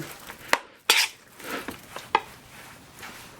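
Coleslaw of shredded white cabbage with mayonnaise being mixed in a bowl, with a few sharp clinks of a utensil against the dish among softer wet stirring and rustling, close and intermittent.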